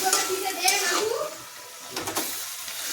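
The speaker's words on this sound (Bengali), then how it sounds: "ওই যে মাছটা ভাজা আছে মাছটা ঝোলের মধ্যে দিয়ে দেবো" Fried fish goes into a simmering curry in a home kitchen, giving a soft sizzle and wet stirring scrape, fairly close and low, while someone talks over the cooking.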